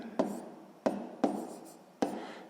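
Pen strokes on paper while working out a sixth-grade math exercise: four sharp taps, each followed by brief scratching, spaced unevenly and close by, with no talk.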